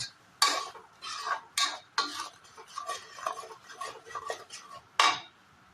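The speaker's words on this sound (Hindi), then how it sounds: "अब इसको थोड़ा अच्छी तरह से मिक्स कर लेते हैं।" Duck meat curry being mixed in a pot, with bursts of clattering and scraping from a utensil against the metal, irregular and fairly close, some louder knocks standing out, no voices.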